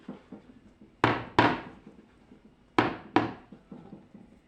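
An oven door bangs shut as a yogurt cake baking at 160 degrees goes in, with four sharp knocks in two pairs over quieter handling clatter.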